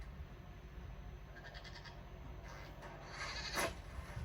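A goat in the video game Dragon Age Inquisition gives a faint, short bleat over a low, steady background hum.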